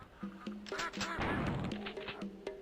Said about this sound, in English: Just non-stop quacking.